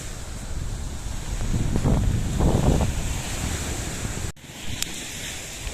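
Steady roar of sea waves breaking on the shore at Yumurtalık with gusting wind buffeting the microphone, continuous throughout, dipping briefly near the end.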